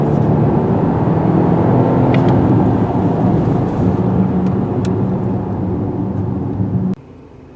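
A 2020 Volvo XC90 T8 plug-in hybrid in power mode pulls hard, a steady loud broadband roar of engine and road noise building under acceleration, then dropping off sharply near the end.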